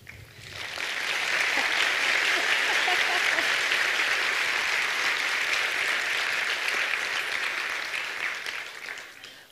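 Sustained applause from a concert audience for a symphony orchestra, a dense wash of many clapping hands that swells in, holds steady and loud for several seconds, then tapers off at the end.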